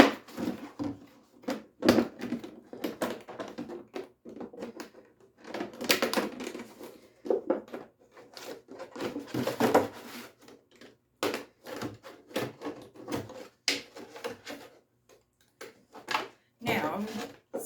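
A plastic container is cut all the way around just below its handle while prepping for winter seed planting. Close, crunchy snips and crackles come in irregular bursts with short pauses between them.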